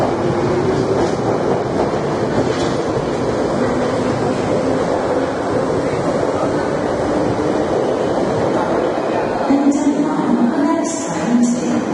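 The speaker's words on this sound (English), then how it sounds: "Tube back up to Euston." A London Underground tube train rides along with a steady, loud roar of rumble and rushing noise, continuous throughout and without speech.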